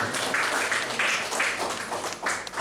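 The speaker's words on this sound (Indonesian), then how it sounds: "Kok nggak tepuk tangan buat Tuhan?" Church congregation at a Pentecost service breaking into applause, with rolling waves of clapping rising and falling across the stretch over a faint room murmur.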